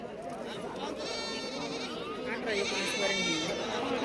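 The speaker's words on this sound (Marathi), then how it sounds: "ही तेरा चौदा पर्यंत येणार आहे चांगल्या शेळ्या आहेत बघा" Goats bleat repeatedly at a weekly livestock market in Shirur taluka, Pune district, where sheep and bucks are also traded; several close bleats overlap with steady talking and market chatter in the background.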